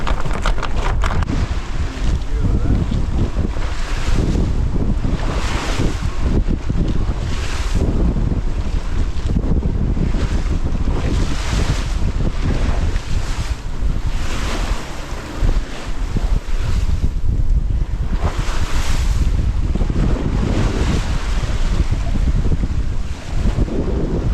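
A new sail on a sailboat flaps and luffs in strong wind, giving repeated rustling bursts over continuous wind noise and the wash of water and waves, with no talking.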